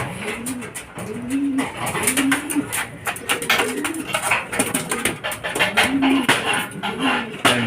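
Racing pigeons arriving at a Filipino club fun-race loft, cooing repeatedly in a rolling, rhythmic pattern up close, with scattered clinks and rustling throughout.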